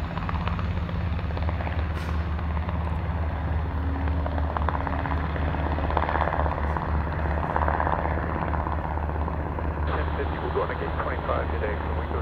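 An MH-60 Blackhawk helicopter departing Buffalo airport makes a steady, heavy low rotor thump and turbine roar, with radio voices talking over the sustained noise.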